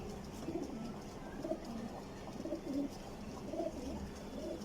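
Pigeons coo softly in repeated low, throaty calls against a faint background hum, with no talking.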